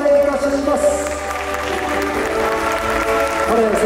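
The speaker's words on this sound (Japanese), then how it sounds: "改めて大きな拍手をお願いいたします。" Audience applause at a men's physique bodybuilding contest, a 2021 Ishikawa Prefecture open championship, moderate steady clapping from the crowd with background music or tones and some voices underneath.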